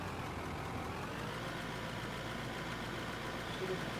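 A loader in the mining game Out of Ore idles steadily with a constant low rumble and broad noisy hum, unchanging throughout with no voices.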